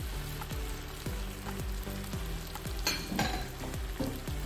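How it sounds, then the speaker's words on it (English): Cream of mushroom soup is stirred into a green bean casserole, a steady bubbling sizzle broken by a regular rhythm of spoon strokes and a couple of brief scraping bursts, close and without speech. "I'm going to stir that in."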